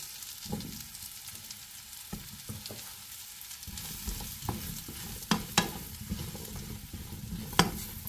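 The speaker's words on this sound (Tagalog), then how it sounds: "Unahin ko tong igisa tong yung mushrooms." Mushrooms sauté in butter in a pan, a steady soft sizzle broken by sharp clicks and scrapes of stirring, close and fairly quiet.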